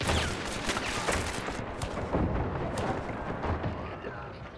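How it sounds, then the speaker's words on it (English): The Cadwell chain pistol in Hunt: Showdown is fanned, firing a dense, rapid barrage of loud shots in an unbroken, rumbling stream. "It's especially fun with the Cadwell chain pistol, to blanket fire through a wall till you hit your target."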